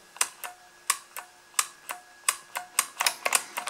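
An IBM Model M mechanical keyboard being typed on, each key giving a sharp, metallic click in an irregular rhythm that speeds into a quicker cluster toward the end, close and loud with no voices.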